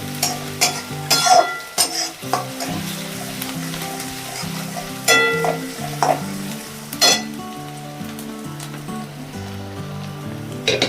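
Onions for poha stirred and sautéing in a pan, a soft steady sizzle with repeated scraping and stirring strokes, moderately close and without talk.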